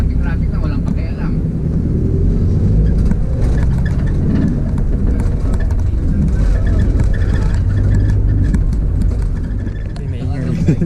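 Steady road traffic roars past in a busy Philippine street, a continuous loud engine rumble with vehicles passing close by, while people talk over it.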